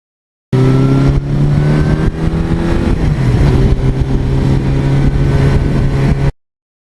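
A 1982 Suzuki GS1100E motorcycle with an unmodified original engine at 80,000 miles is being ridden. Its engine gives a loud, steady drone throughout, and the pitch drops briefly about halfway through.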